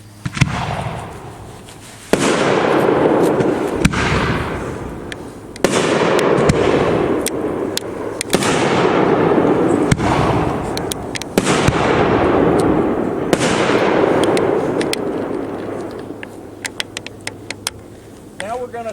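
Fireworks shells from a 2.5-inch Freedom Fancy assortment burst one after another with sharp, loud booms at irregular intervals, each followed by crackling and sustained rumbling that fills nearly twenty seconds.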